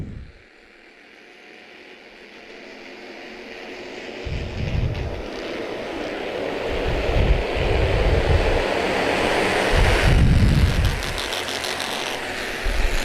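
Legends and Bandolero race cars run four wide down the back straightaway at New Hampshire Motor Speedway, heard from a distance as a rising, surging roar with engine pulses swelling past.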